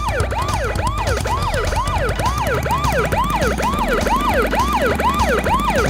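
Wailing police car sirens from the video game Crash Bandicoot Warped, several overlapping rising-and-falling tones cycling steadily and loudly over a low engine rumble.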